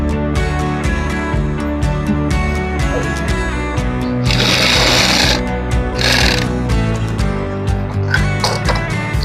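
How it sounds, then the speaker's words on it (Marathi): Sewing machine running steadily while stitching straightened strips onto the main fabric of a pillow, a dense rhythmic mechanical whir with brief bursts of brighter hiss partway through. "पिलोचे जे मेन फॅब्रिक आहेत ते शिवून घ्यायचे आहेत आणि जे पट्टे आपण सरळ करून घेतले होते ते त्यावरती स्टिचिंग करून घ्यायचे आहेत"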